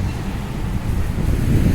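Cold November wind buffets a microphone on Barrington Street in a brief, low, gusty rumble that swells slightly toward the end.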